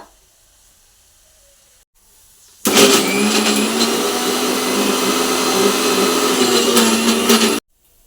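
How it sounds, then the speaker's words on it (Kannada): A mixer grinder blends spice masala with sambar powder, a loud whirring roar that starts abruptly after a quiet moment, runs steadily for about five seconds, then cuts off. "ಮಿಕ್ಸಿ ಮಾಡ್ಕೊಂಡು ಬಂದ್ಬಿಡೋಣ ಇವಾಗ"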